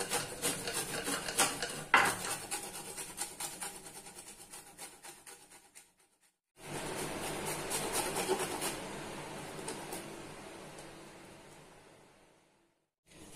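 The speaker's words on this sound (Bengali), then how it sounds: "তারপরে এটা খোসা সমেতই আমি গ্রেট করব।" Raw mango with its peel on being grated by hand, a continuous rhythmic rasping scrape that stops for a moment partway through, then resumes and gradually fades.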